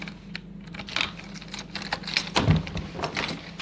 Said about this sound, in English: Bloody unlocking the door.